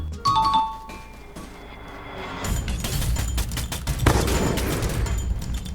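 Gunfire in a battle-royale shooter game: a quiet stretch with chimes gives way to a dense, continuous burst of shots and impacts that keeps going loud to the end, with no talking.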